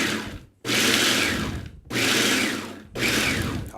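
Walnuts pulsed in a food processor: three loud whirring bursts of chopping, each cut off by a short gap of silence, close and alone.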